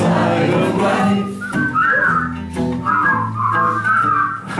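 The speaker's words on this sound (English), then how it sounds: "Just purse your lips and whistle" Someone whistles a melodic tune close by, clear sustained notes rising and falling over several seconds, with a faint voice or music mixed underneath.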